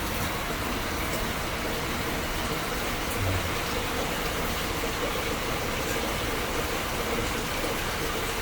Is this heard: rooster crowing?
no